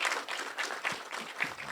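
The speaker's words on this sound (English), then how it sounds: "let's give the panel a round of applause" An audience claps for a panel at an environmental innovation challenge launch, producing a quiet, scattered patter of hands heard from a distance.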